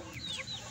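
A short, faint cluck from an Aseel chicken, a couple of quick high notes in a quiet setting.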